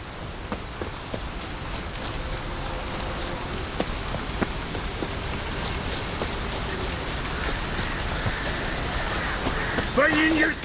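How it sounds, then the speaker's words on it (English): Heavy rain in The Witcher 3: Wild Hunt pours continuously with scattered louder drops and splashes, a constant wash of noise that stays loud throughout. "Looks like rain."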